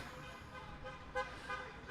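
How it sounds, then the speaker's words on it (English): Car horns honk outside on a street in Trenton, faint and distant, heard as a muffled toot and a couple of short blasts over a steady hum of traffic. "Lots of honking out there."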